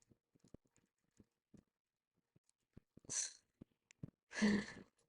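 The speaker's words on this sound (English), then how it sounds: "there's a sneeze coming up soon." Quiet clicks and small mouth sounds lead into a short sharp inhale, then a loud, close sneeze near the end.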